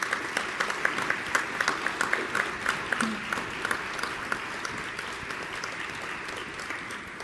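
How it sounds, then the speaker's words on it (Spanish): An audience at a university Teachers' Day award ceremony applauds, with a steady crowd of hands clapping and a few sharper individual claps standing out along the way, fading a little toward the end. "Un fuerte aplauso para todos ellos."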